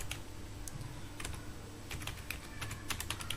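Typing MATLAB code on a computer keyboard, a steady run of light key clicks with irregular rhythm, close but quiet, over a low steady background hum.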